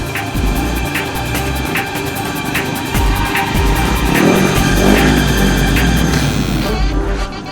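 A car engine revs hard as the car is driven, a loud, close, rough roar that climbs and holds for several seconds with rhythmic mechanical ticking.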